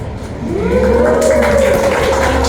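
A goat gives one long, loud, wavering bleat at close range during a goat class, heard over a steady low background rumble.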